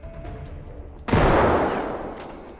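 A grenade detonates in the shooter game Escape from Tarkov, a single loud, close blast that bursts out abruptly after a quiet stretch and then rumbles and decays over a couple of seconds.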